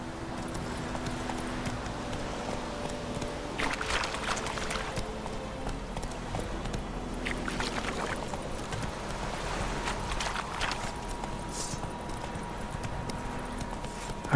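Horse hooves clip-clopping at a steady gallop in the video game The Witcher 3, moderately loud and continuous, with occasional louder thuds and a faint ambient wash behind.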